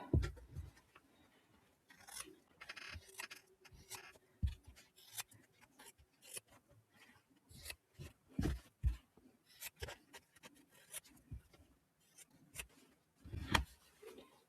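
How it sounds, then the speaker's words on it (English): Scissors cutting fabric with a quarter-inch seam allowance at a craft desk: quiet, irregular snips and rustles come in short bursts with pauses between them, close by and faint. "I'm going to cut out with my 1/4 inch seam allowance"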